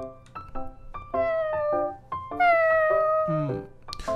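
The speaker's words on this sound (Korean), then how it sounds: "야옹아 여기서 뭐해?" A cartoon cat pet in the Roblox game Adopt Me meows several times, a string of short, clear, tonal mews followed by a longer drawn-out meow, close and loud.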